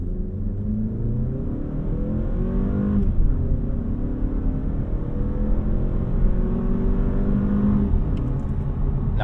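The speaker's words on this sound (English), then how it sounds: "Come to a complete stop here and floor it." A 2025 Mazda3 2.5 AWD sedan in sport mode launching hard from a standstill, engine roaring loudly from inside the cabin as revs climb in long sweeps, with a brief dip at a gear change before pulling strongly again.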